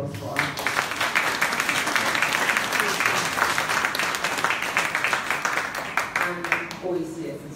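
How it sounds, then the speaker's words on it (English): Applause from an audience at a college lecture, a dense wash of clapping that holds steady for several seconds with faint voices underneath. "Please a round of applause for us."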